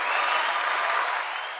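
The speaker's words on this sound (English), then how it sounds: "We got the applause" Applause sound effect dropped into a podcast recording, a dense burst of crowd clapping that holds steady and starts tapering off near the end, with no voices.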